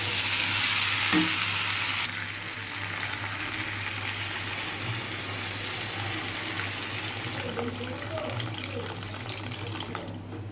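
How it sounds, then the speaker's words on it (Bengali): Fried potatoes are stirred into a braised meat curry, giving a steady close sizzle with soft scraping and stirring noises over a low constant hum, louder for the first couple of seconds. "এবার ভেজে রাখা আলুগুলো ওই মাংসের মধ্যে ঢেলে দেব। ঢেলে দেওয়ার পরে কিছুক্ষণ নাড়ব।"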